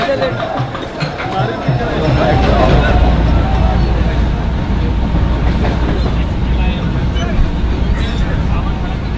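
A crowded Mumbai commuter train rumbles and roars continuously, loud and close, with dense crowd noise and voices mixed into the steady rolling din.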